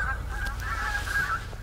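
Geese honk continuously in a loud, nasal chorus at close range during a goose hunt in Trøndelag, with low wind or handling rumble underneath.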